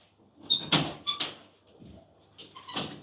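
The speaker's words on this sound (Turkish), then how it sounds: "Kapıyı açıyorum." A front door being opened at home: a few short knocks and clicks of the latch and handle, a faint creak, then quiet shuffling, all fairly soft and close.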